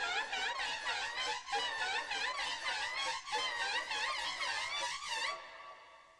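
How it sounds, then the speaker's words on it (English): Mangled, processed plasticky clown-nose beeps from a horror trailer score form a dense, warbling, squeaky texture that pulses in rapid wobbles for about five seconds before cutting off abruptly. "plasticky clown nose beeps"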